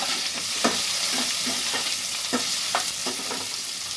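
Potatoes and vegetables frying in a pan with a light sizzle, stirred in steady scraping strokes that repeat several times, close and alone.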